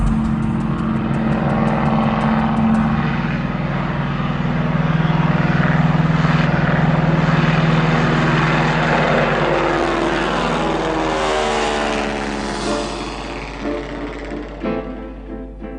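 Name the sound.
vintage 1928 propeller airplane flying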